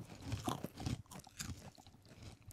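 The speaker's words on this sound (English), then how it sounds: "wait, this is the sound of cereal." Heart-shaped crunchy cereal is chewed close up, giving a quick run of crisp crunches and bites that fade into softer chewing, with no talking.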